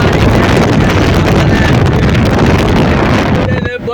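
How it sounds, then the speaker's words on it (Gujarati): Cold early-morning air roars through an open truck window while the truck drives a long highway route. The rush is loud and steady, then drops away near the end. "ને બારી ઠંડી ઠંડી હવા આવે."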